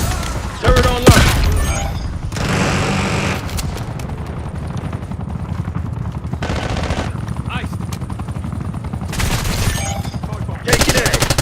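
Turret machine gun fire in a military video game, long rapid bursts rattling almost continuously with a few louder volleys, close and heavy, with a helicopter-like drone and radio-style voices underneath.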